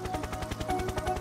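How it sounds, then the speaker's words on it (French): Cartoon helicopter from a French educational children's animation, its rotor a steady rapid chopping pulse that stays loud and even throughout, with no talking. "C'est un hélicoptère."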